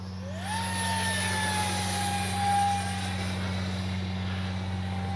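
Arrows 50mm T-33 RC model jet with its electric ducted-fan motor running, a steady whine with a rising tone near the start, continuous and fairly loud over a constant low hum, no talking.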